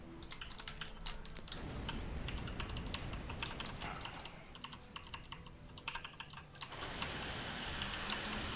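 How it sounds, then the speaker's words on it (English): Rapid typing on a computer keyboard, with quick clattering keystrokes running almost continuously throughout. The clicks are fairly quiet against a low room hiss. "Yeah, that's the keyboard sound we were expecting."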